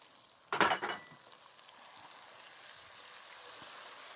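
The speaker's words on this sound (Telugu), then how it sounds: "మిగతా మసాలా మొత్తం దీంట్లో వేసుకొని ఇట్లా వంకాయలోకి బాగా మసాలా అంతా పైన తగిలేటట్టు బాగా కలుపుకోవాలండి దీంట్లో" Masala is stirred into stuffed brinjals in a pan, with one brief scraping clatter followed by a faint, steady sizzle of frying.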